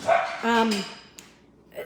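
A dog indoors at home gives a couple of sharp, close barks and yips, then the room falls quiet before a brief faint yelp.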